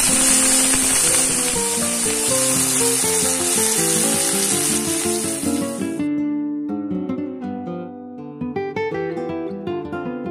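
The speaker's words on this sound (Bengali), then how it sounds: "ব্যাস, এবার আলুগুলো তেলে ছেড়ে দিচ্ছি।" Potatoes are dropped into hot oil already tempered with black cumin and dried chillies, setting off a loud, bright sizzle that cuts off sharply partway through, leaving quieter crackling and tonal sounds; no one speaks.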